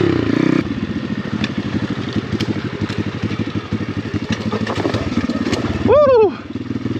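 An Apollo RFZ enduro motorcycle riding a trail, heard close up with a loud, steady rhythmic engine chugging. Near the end comes a brief rising whistle-like squeal, and voices are heard over the engine.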